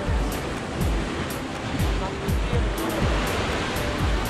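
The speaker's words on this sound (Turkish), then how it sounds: "Çok dalga var ve çok keskin kayalar." Ocean waves crash against sharp rocks by a natural rock pool, a steady loud roar of surf with repeated low thuds as swells break close by; faint voices may sit under the water noise.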